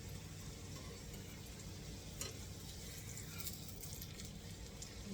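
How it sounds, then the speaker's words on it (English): Eggplant slices frying in a pan give a steady, close sizzle with a faint crackle throughout, no voices over it. "when I'm done frying them up, I will be back"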